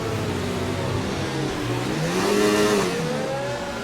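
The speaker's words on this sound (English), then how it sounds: "we're actually doing some burnouts to try and warm up the rear tyres and the front tyres" Engine of an F1 car in the F1 2019 racing game, revving hard during a burnout to warm the tyres, its pitch wavering and climbing as a loud, steady drone with no talk.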